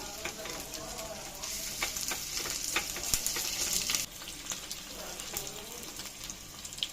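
Curry leaves, a pinch of asafoetida and chopped ginger crackle and sizzle in hot oil for a vegetarian soybean curry, a steady close frying hiss with sharp pops and occasional stirring scrapes throughout.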